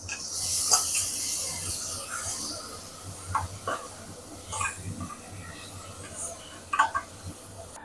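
Tomatoes sauté with a little salt in a pan for prawn biryani, giving a soft hiss that is loudest at first and then fades, with a few scattered stirring clicks and taps.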